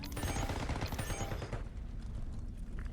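Gunfire in Call of Duty Black Ops 6, a quick burst of loud, sharp sniper rifle shots at close range in the first half, then fading into game ambience.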